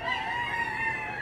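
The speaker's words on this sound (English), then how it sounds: "I live next to the roosters." A rooster crows continuously with a sustained, strained call, fairly close and steady in loudness, no speech over it.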